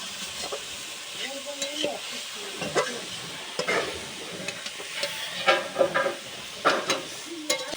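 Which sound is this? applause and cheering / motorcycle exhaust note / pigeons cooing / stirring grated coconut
stirring grated coconut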